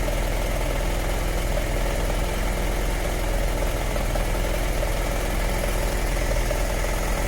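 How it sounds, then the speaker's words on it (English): A BMW F700GS/F800GS motorcycle engine idling roughly with misfires, a steady loud close-up rumble with uneven, stumbling pulses running throughout and no voices over it. "I will show you how the motorcycle was behaving when it was not working."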